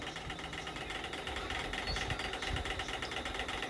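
A sewing machine runs steadily while stitching a folded seam on blouse fabric, a continuous close mechanical whir with a fast even rhythm and no talking.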